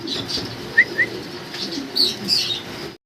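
A pair of black nun pigeons at a farm give a few short chirps and soft coos, up close, with faint flutters and a low background hum, and no voices.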